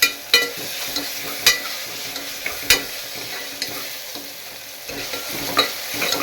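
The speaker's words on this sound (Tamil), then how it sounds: "இதெல்லாம் போட்டு வதக்கி விட்டுருவோம் நல்லா இஞ்சி பேஸ்ட்டில் போகிற மாதிரி" Ingredients sauté in a pan with ginger paste, under a continuous sizzle with regular scraping strokes of a spoon and a few sharper knocks against the pan.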